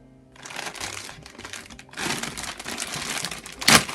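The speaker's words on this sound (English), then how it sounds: "ripping these bags open" Plastic parts bags for a Tamiya Ford Mustang GT4 TT02 RC car kit being ripped open, a crinkly crackling that starts softly, swells into a steady rustle, and ends in one sharp louder tear near the close.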